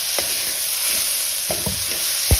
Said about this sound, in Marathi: कांद्याची पात पण एकच मिनिट भाजून द्यायची एकच मिनिट भाजायचं